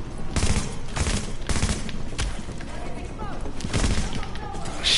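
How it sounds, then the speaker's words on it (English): Sniper fire in The Division video game: several sharp gunshot cracks in irregular bursts with thumping impacts, close and loud, while someone talks over the shooting. "Snipers. Freaking snipers up there."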